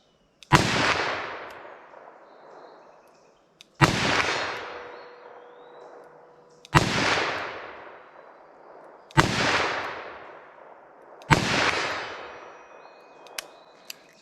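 Five loud .357 Magnum revolver gunshots fire outdoors, spaced about two to three seconds apart, each a sharp crack with a long echoing decay.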